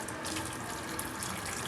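Tap water runs steadily into a sink while omena sardines are washed, a continuous close splashing stream with no voices.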